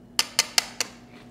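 Four sharp clinks, evenly spaced, of utensils knocking against a dish while tossing Yum Woon Sen, a Thai glass noodle salad with lime juice and peppers; close, clear and without talk, fading to quiet at the end.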